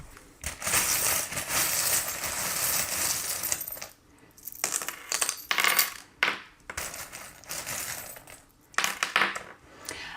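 Small metal charms for a divination reading are handled and dropped, giving repeated bright clinks and jingles in bursts with brief pauses, close and fairly loud.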